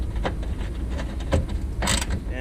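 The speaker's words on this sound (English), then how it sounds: "go ahead and use your 5/16 or 8mm to tighten those bolts back down to secure your fog light in place" A ratchet clicks in short bursts while tightening the fog light mounting bolts on a Ford F150 pickup, close and fairly loud against a steady background hum.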